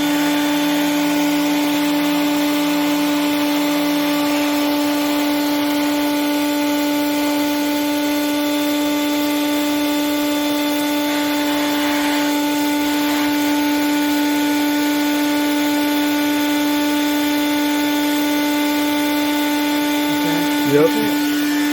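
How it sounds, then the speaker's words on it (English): A shop vac pushes air through a hose into the oil filler of an aircraft engine crankcase to pressurize it at F69 Airpark in Dallas, making a steady, continuous motor whine and drone that holds unchanged for the whole stretch. "Shop vac, hose, oil filler inlet. That's how you pressurize the crankcase to check for oil leaks."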